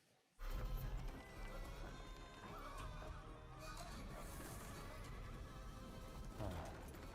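A horse in a movie scene from Kantara: A Legend – Chapter 1 lets out a loud shrill whinny, then hooves clatter in a fast gallop amid dense, busy film sound, close and intense throughout.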